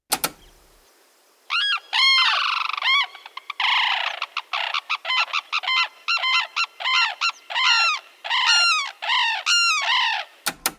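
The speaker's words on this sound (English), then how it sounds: "we're basically listening to this unison call between a male and a female Sarus crane" Male and female Sarus cranes give a loud, close unison call: a rapid series of ringing, trumpeting honks alternating in a steady duet rhythm, building over several seconds with no other sounds.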